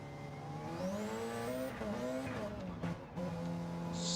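Race car engine in a racing video game drones steadily with shifting pitch as the car pulls out of the pit lane, mid-volume and continuous, with faint tire noise and a brief dip near the end.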